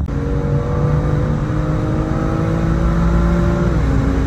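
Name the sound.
car setting off for a drive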